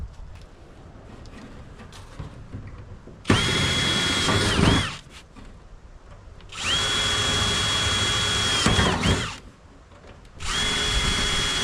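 Three loud bursts of a power drill spinning up and running steadily while drilling on an old trailer, separated by brief quiet gaps with light background noise.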